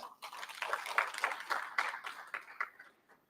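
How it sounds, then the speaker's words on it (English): Scattered applause from an audience at a malaria oral-presentation session, a few dozen close claps spread over a few seconds, fairly faint and thinning out toward the end. "Can you give her a round of clap?"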